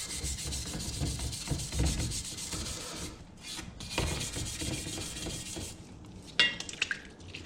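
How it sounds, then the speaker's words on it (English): A soft bristle brush scrubs rust off a Marlin rifle part in quiet, rhythmic back-and-forth strokes, with a brief pause midway and a few light knocks near the end. "It's a nice soft bristle brush."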